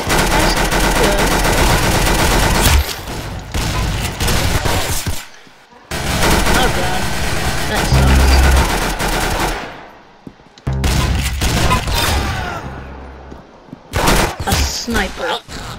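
Rapid bursts of gunfire from Roblox Arsenal, a sniper rifle among them, ring out loud and dense in several long volleys broken by short silent gaps.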